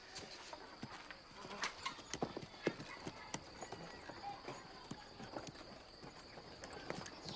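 A horse-drawn cart on an island clip-clops along, hooves striking in an uneven, fairly quick rhythm at moderate distance over faint background noise, with no talking.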